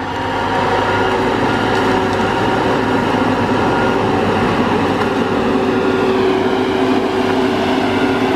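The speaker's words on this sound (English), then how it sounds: "You can hear the fan running on it." A fan runs on a Tigercat LX830D forestry machine in woods after a tornado, giving a steady, loud, unbroken mechanical drone with a faint tonal hum, continuous throughout with no talk.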